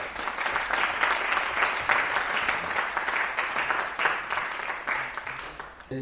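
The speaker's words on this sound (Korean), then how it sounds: "큰 박수, 베트남까지 들리도록 큰 박수 한번 크게 한번 쳐주세요." Audience applause at a university scholarship award ceremony, a steady burst of many hands clapping that continues for about six seconds before tapering off at the end.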